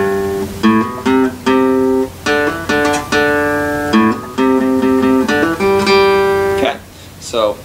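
An acoustic guitar plays the second half of the verse of a song, a rhythmic pattern of plucked and strummed chords with short gaps, close and clear, ending on a scraping strum.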